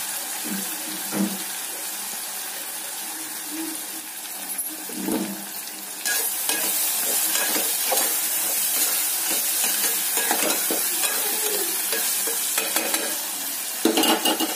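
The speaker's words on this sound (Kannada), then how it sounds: "ಈಗ ಅಕ್ಕಿಯನ್ನ ಹಾಕ್ತಾ ಇದ್ದೀನಿ" Rice tipped into a pan with an onset of a hissing sizzle partway through, then stirred with scraping, clinking strokes over the steady frying, close and without talk.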